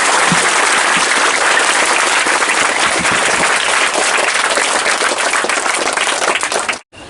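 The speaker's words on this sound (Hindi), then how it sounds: "एक बार ताली बजाइए सर के लिए" An audience claps loudly for a village teacher who gives free education to poor children, a thick, continuous roar of close applause that cuts off abruptly near the end.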